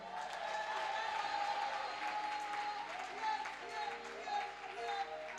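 Congregation applauding and acclaiming Jesus during a church worship service, a steady wash of clapping and crowd noise that fills the whole stretch, with voices mixed in.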